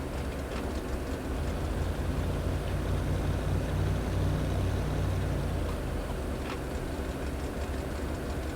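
A 1979 Chevy K30 truck in the SnowRunner video game revs its engine, a loud, steady, rumbling drone that holds without a break and carries no speech.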